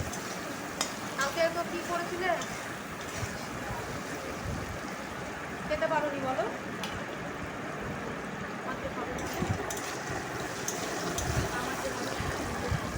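Potato pieces fry in a pan with salt and turmeric, giving a steady sizzle with intermittent scraping as they are stirred, while a voice talks over the cooking.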